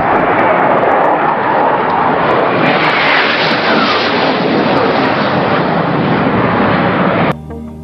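An aircraft passes low over a ship's flight deck, giving a loud, steady broadband engine roar that holds nearly constant, then cuts off abruptly near the end.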